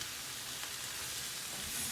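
Bacon and cabbage fry in a pan with a continuous, even hiss and faint crackle, steady and fairly close throughout the short stretch with no talking.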